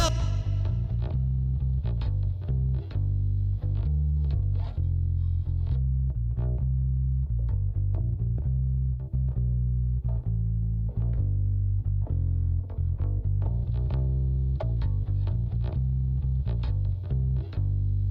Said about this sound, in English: So our first trick is adding a bass distortion